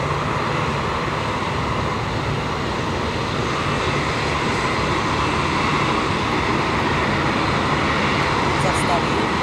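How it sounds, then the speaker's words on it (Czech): Engines of a Swiss Boeing 777 spool up to full power for departure, a loud, steady, broadband roar filling the whole stretch without letup, with a voice speaking faintly beneath it. "nastavuje motor na plno"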